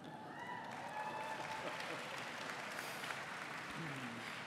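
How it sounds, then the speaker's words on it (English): Quiet clapping from an audience at a general session of a Unitarian Universalist assembly, a soft, steady patter heard from a distance with faint voices and tonal sounds mixed in. "I heard some clapping."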